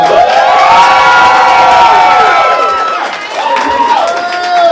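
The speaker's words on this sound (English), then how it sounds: "If you think Will was the winner, clap your hands." A roast battle crowd in Hartford cheers and whoops loudly for a winner, a sustained roar of voices with shouting swells that dips briefly before rising again.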